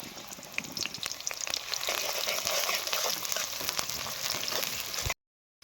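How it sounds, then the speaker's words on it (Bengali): Chopped onions fry in hot oil left over from frying, making a dense, steady close sizzle with light stirring taps, and the sound cuts off abruptly near the end. "পেঁয়াজটাকে একটু লাল লাল করে ভেজে নিতে হবে।"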